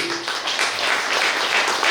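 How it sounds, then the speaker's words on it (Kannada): Applause for Raviyanna at a stage event: a dense, steady wash of many hands clapping together from a seated crowd, loud and continuous. "ಈ ರವಿಯಣ್ಣನವರಿಗೆ ನಾವೆಲ್ಲರೂ ಸೇರಿ ಒಂದು ಚಪ್ಪಾಳೆ ಮೂಲಕ ಅವರನ್ನು ಅಭಿನಂದಿಸಲೇಬೇಕು"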